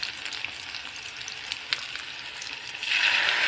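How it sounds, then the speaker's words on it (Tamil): Small shallots sizzle in a hot frying pan for a bitter gourd stir-fry, a steady bright crackle that swells louder near the end, with no talking. "வெங்காயம் நல்லா வணங்க விடுங்க."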